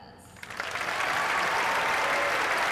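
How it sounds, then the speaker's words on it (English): A crowd breaks into applause after a brief quiet start at RAF Mildenhall during a presidential visit, swelling quickly into a full, sustained round of clapping. "Let's give her another round of"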